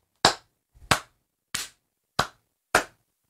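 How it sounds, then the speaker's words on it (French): One person claps five times alone in a quiet room, sharp and evenly spaced about half a second to a second apart. "Je m'applaudissais moi-même"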